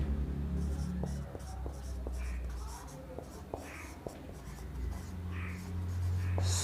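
A pen or marker writing an equation for a distance-time graph physics lesson, scratchy strokes and small taps close up, with someone speaking Hindi quietly over them.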